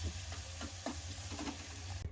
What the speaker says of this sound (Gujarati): ટામેટાને થોડીક બે મિનિટ સાતળવા